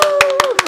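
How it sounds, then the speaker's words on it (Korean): A few sharp hand claps, about four evenly spaced, ring out during a Korean studio interview about adult learners, over a sustained tonal voice or music line in the background. "박수 한번"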